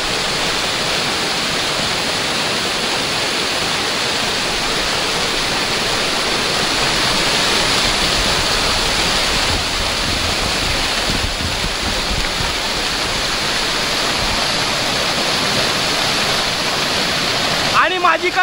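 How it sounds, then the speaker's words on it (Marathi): Small waterfalls in the Konkan countryside pour in a loud, continuous broadband rush that stays steady and unbroken for the whole stretch, with no clear talk above it. "हे छोटे मोठे धबधबे असे कोकणामध्ये फार आपल्याला पाहायला मिळतात"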